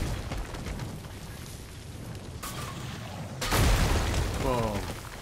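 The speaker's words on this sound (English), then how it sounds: "These are explosions." Explosions boom through combat in God of War, a rumbling blast building midway and a louder burst near the end, layered over game music and effects, with someone talking over the action.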